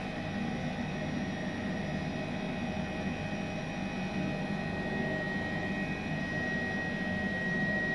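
Steady cockpit hum of a simulated H135 helicopter taxiing in Microsoft Flight Simulator, a constant broadband engine and rotor drone with even loudness throughout and no talk.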